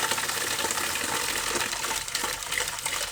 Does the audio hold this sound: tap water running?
yes